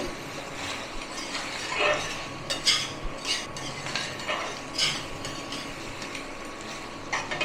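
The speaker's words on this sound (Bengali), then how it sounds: "চিকেনটা দিয়ে দিলাম। একবার ভালো করে মিশিয়ে নেব।" Chicken stirred into a pan of saucy chili chicken with softened capsicum, the spatula clinking and scraping against the pan in irregular strokes over a faint background hiss, with no voices.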